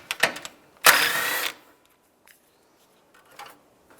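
A part on a 2014-2019 Toyota Corolla popping loose during radiator removal: a short rattling clatter, then a half-second burst of scraping, followed by quiet with a few faint clicks, all close and without talk.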